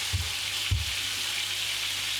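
A snapper fillet fries skin side down in a pan, giving a soft, steady sizzle with two brief low thumps early on as the fish is handled.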